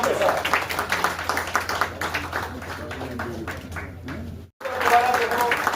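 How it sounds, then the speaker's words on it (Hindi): An audience at a company's annual meeting in Srinagar claps, a broad wash of applause running under a voice speaking over it, briefly dropping out before resuming. "जोरदार तालियों के साथ"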